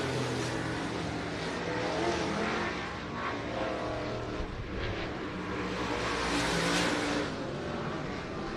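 Race cars running hot laps at Florence Speedway, engines roaring continuously at mid-distance with swelling and fading passes, no talk.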